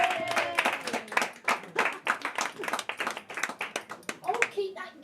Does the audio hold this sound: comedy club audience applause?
yes